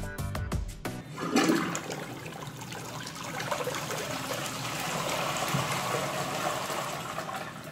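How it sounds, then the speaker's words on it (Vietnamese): An INAX one-piece toilet gives a light flush: a short click of the button, then rushing, swirling water that settles into a steady trickling refill, close and fairly loud. "Trước tiên mình sẽ nhấn xả nhẹ trước."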